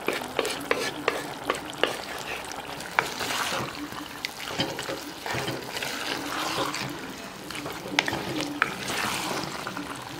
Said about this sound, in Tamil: எண்ணெய் சூடானதும் கடுகு போட்டுக்கலாம்.